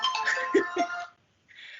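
John's mobile phone rings during a video call: a bright, multi-tone ringtone chime for about a second, a brief pause, then the ring starts again, close and fairly loud with no talk over it.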